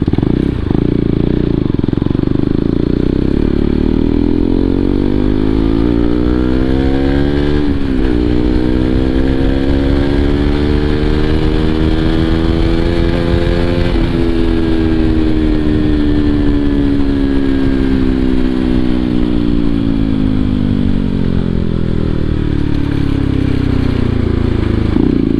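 A KTM RC200 motorcycle rides along a road with a loud, close engine drone whose pitch rises and falls through gear changes, steady and unbroken throughout.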